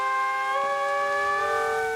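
Steady, loud tonal blare of a centuries-old siren powered by cascading water pushing air through herald statues' trumpets in a fountain park, holding one continuous pitch throughout with no voices.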